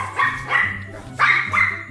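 A dog barks four times in two quick pairs, close and fairly loud.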